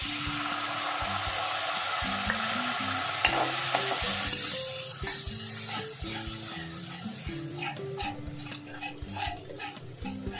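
Beaten yogurt being stirred into frying masala over a low flame for an egg biryani, with a continuous sizzling hiss and scraping spoon strokes, close and steady, while tonal background music plays throughout.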